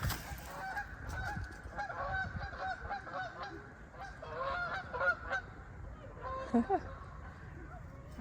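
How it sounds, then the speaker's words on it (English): A flock of geese honks repeatedly at a middle distance, overlapping calls rising and falling, with some faint talking in the background. "There are the geese."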